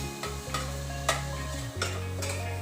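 Garlic sizzles in sesame oil in a pan during vegan cooking, a soft steady frying hiss broken by several scraping stirs, with faint background music underneath.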